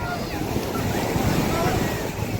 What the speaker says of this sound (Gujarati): ફૂલ મોજા.